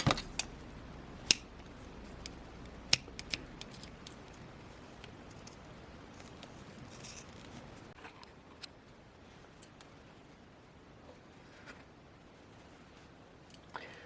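Scissors trim the ends of a sari silk tassel for a necklace, giving sparse soft snips and clicks at close range over a quiet background, with no talk.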